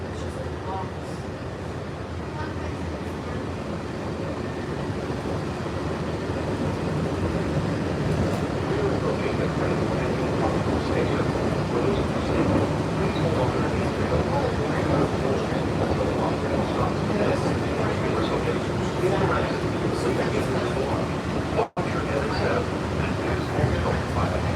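Steady rumble and rolling hum of a Walt Disney World monorail train in motion, heard from inside the car, continuous and fairly loud with faint voices in the background.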